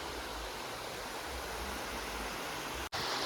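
A small water channel flows beside a tunnel at Anchuruli, making a continuous broadband rush of running water, steady and moderately close, with a very brief dropout near the end.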